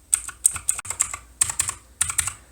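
Keys on an RGB mechanical gaming keyboard are pressed close by in quick clicky bursts of three to five strokes with short pauses between, crisp and fairly loud with no voices.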